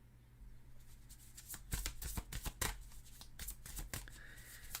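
Tarot cards are shuffled by hand in a quiet room, a series of close, crisp riffling snaps in uneven bursts, with no talk.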